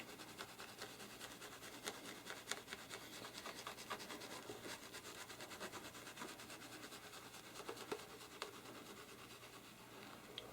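A cloth wipes linseed oil onto the wood of a 12-string guitar, making soft, faint, repeated rubbing strokes close up with no talking.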